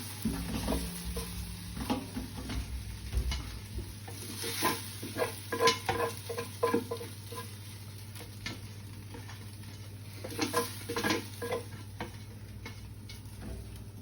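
Browned beef pieces are tipped into a deep pan, giving soft clatters and a brief faint sizzle over a low kitchen hum, fairly quiet, with a few irregular knocks and scrapes.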